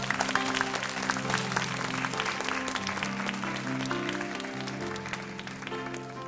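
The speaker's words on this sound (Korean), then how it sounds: "우리 박수로 앞으로 모셔보도록 하겠습니다." Church youth worship service congregation clapping to welcome young people forward, sustained even applause under a soft held musical backing, moderately loud throughout.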